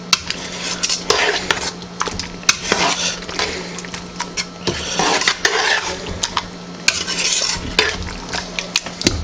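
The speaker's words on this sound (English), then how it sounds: "got the broccoli and get it all stirred in there" Broccoli stirred into ravioli in alfredo sauce, with a spoon scraping and clinking against the pan in a steady rhythm over a soft sizzle, close and clear.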